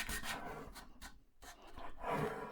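Quiet, rasping strokes of hand sanding with 120 and 180 grit sandpaper on the rough end grain of a turned wooden piece with a resin inlay, as a few soft, uneven rubbing passes.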